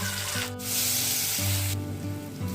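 A fish head fries in oil with a loud, steady hiss under a droning, wavering tonal hum that shifts pitch a few times; no speech.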